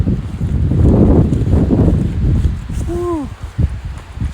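Strong wind roars steadily through trees in Yellowstone National Park during a flood evacuation, a loud, buffeting rush with gusts close to the microphone and a voice briefly calling out over it.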